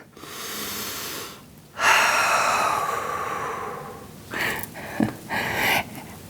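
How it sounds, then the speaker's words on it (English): Slow yoga breathing during a core workout on the floor, drawn in through the nose and released out through the mouth: long, airy breaths close up, with a few shorter puffs near the end and no talking. "Inhale through the nose, out the mouth."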